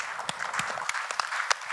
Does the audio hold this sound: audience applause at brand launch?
yes